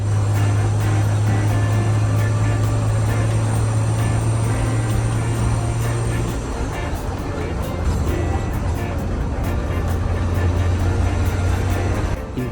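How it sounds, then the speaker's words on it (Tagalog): An ordinary provincial bus drives along, its engine producing a steady low drone with a faint turbo whistle above it, while the cabin rattles and the leaf springs creak; the noise is continuous and fairly close throughout. "Una kong napansin is yung tunog ng makina, very solid, parang may turbo na sumisipol."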